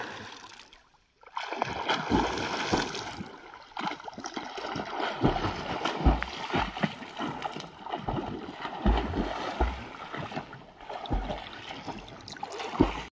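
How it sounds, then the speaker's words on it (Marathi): People swim and wade in waist-deep water, with irregular splashes, gurgles and sloshing at close range, some louder strokes and a brief quiet gap near the start. "तिकडे जाऊन पोहूया या. तर आम्ही जरा पोहूया जरासा."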